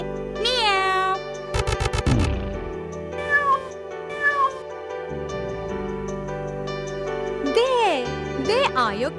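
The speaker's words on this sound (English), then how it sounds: "Cat, say meow." A cartoon cat gives several drawn-out, sliding meows over light music with jingling tones in a children's animal story, loud and close, alongside a voice.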